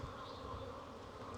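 Honey bees hum around a hive in a home apiary, a faint, dense and continuous buzz with no voices.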